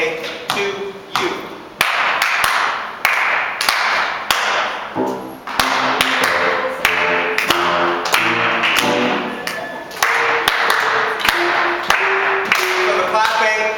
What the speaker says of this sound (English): So the clapping is the words